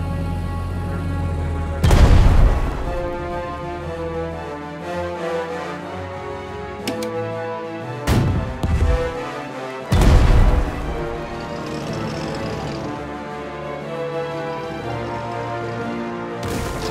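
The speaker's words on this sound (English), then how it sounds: "Artillery standing by." Artillery fire in the WWII strategy game Strategic Mind: Spectre of Communism, with a few heavy booming shots spaced several seconds apart over a sustained orchestral music bed.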